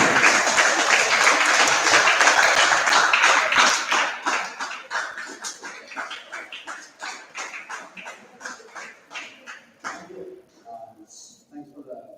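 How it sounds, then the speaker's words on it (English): Audience applause at a school debate competition, loud dense clapping that thins after a few seconds into scattered individual claps and fades out. "Give him a big round of applause."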